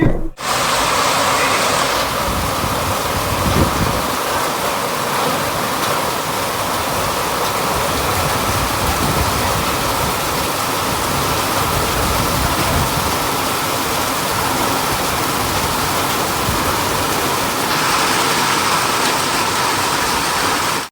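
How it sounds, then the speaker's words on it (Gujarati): Light rain falls outside a house as a steady, even wash of broadband patter that stays constant for the whole stretch, with no voices over it. "ઓછો અવાજ વરસાદનો આવતો હોય છે"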